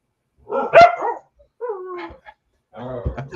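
A dog barks close by in several separate bursts, with whimpering, yelping tones between the sharp barks and short pauses of silence.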